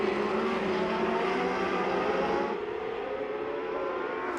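Formula One race cars, including a Tyrrell, racing at Sonoma, with a loud, steady, continuous engine roar that carries throughout and eases slightly about halfway through.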